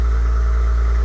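A Maserati engine gives a deep, loud, steady rumble close by, a continuous low growl with no speech over it.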